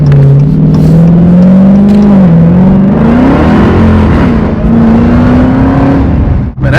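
A Dodge Hellcat with a newly modified exhaust drives close by, its loud, deep engine rumble rising and falling in pitch as it moves, with a brief dip just before the end.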